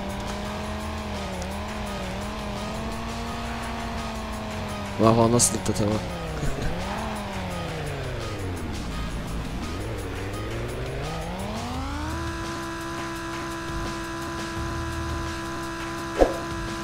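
A car drifting in Garry's Mod, its engine whining up and down in pitch with bursts of tire squeal, held steady near the end, while someone talks over it.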